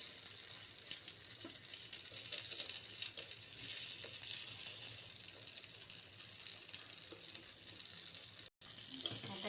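Beetroot appe batter fries in an appe pan with a faint, steady hiss that continues with little change. The sizzle breaks off briefly near the end, and no clear talking is heard.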